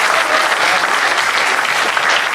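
Loud, close applause from the audience at a live comedy mehfil, with a thick, steady clapping that holds at full strength and no talk above it.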